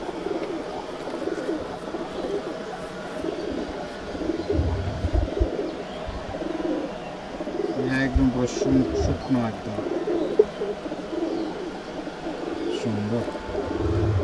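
Pigeons of a fancy breeding line cooing softly and repeatedly in a loft, low throaty calls scattered throughout, with someone talking over them and occasional chirps.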